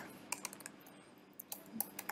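Code being typed on a computer keyboard: quiet, close, irregular key clicks in short bursts with brief pauses, no voices.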